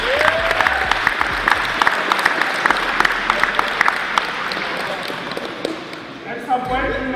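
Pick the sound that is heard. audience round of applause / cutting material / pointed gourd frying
audience round of applause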